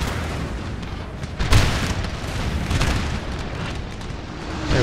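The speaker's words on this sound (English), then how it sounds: "Let's actually do our right-hand cannon canister." Cannon firing canister shot in Napoleon: Total War, a single booming blast with a burst of noise, followed by rumbling battle ambience at moderate level with no talking.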